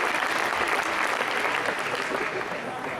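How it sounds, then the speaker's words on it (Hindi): A crowd at a Hindi kavi sammelan poetry recital breaks into sustained applause, many hands clapping in a dense, even wash that holds steady and eases slightly toward the end, with faint voices mixed in. "अब बजाओ ताली।"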